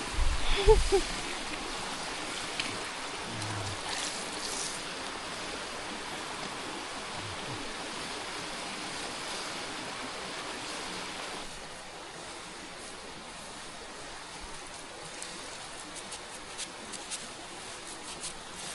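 Irrigation water on a farm flows in a steady, broadband rushing hiss, with a brief louder burst at the start and then a continuous wash.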